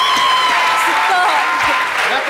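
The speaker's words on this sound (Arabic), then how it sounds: "تصفيق عليهم" Audience applause on a Tunisian television show, a loud continuous wash of clapping with crowd noise and voices mixed in throughout.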